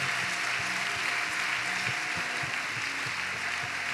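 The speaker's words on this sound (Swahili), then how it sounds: "Mshangilie Yesu kwa makofi." A church congregation clapping for Jesus, steady rhythmic applause kept at a moderate distance over a continuous hiss of room noise.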